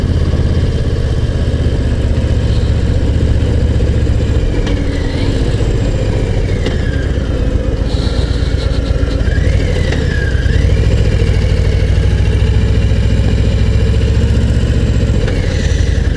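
Harley-Davidson Low Rider ST motorcycle engine running steadily nearby, a loud, deep, continuous throb with slight rises in revs, filling the whole stretch without talk.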